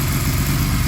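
A 1980 Honda CM200T Twinstar motorcycle idles steadily after an oil seal change, its small twin-cylinder engine giving a close, even, low rumble with no talk.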